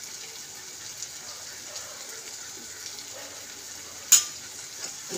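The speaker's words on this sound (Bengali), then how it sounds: "এবার মশলাটাকে কষি।" Masala of cumin, chilli powder and coriander powder fries in a pan with a faint, continuous sizzle, broken by soft stirring scrapes and one sharper clink of the spoon near the end.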